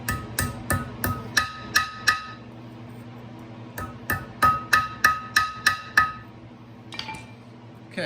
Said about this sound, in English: you can simply reuse them by putting it against a flat surface and hammering the tab flat.